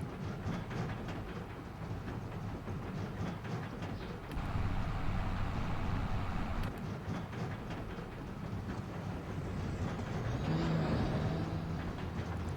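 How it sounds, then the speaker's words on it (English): Heavy cement trucks in a farming simulation game rumble along continuously, a dense low drone with clattering rattles and a louder surge partway through, no voices. "Noisy cement trucks."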